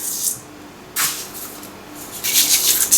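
Close, crackling sizzle of mustard seeds in hot oil for tempering, coming in short bursts with quieter moments between.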